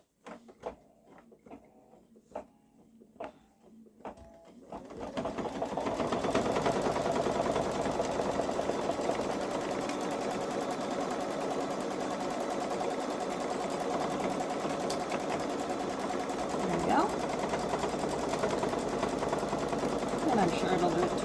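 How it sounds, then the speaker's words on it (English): A Baby Lock Solaris 3 embroidery machine sews tack-down stitches around a border, a steady, fast mechanical rattle that starts after a few seconds of quiet handling clicks and runs on continuously, close and loud. "So I'm going to do the tack down stitches to secure the border with the right side facing up."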